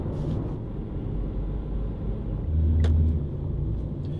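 Steady low rumble of a rented car driving on the road, a continuous engine and tyre drone that swells slightly louder for a moment partway through, with no talking.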